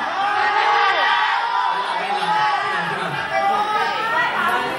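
A pageant audience at Mr. Gay World Philippines 2024 shouts and cheers as contestants are called up on stage: a dense, loud, continuous wall of overlapping voices and whoops that never lets up.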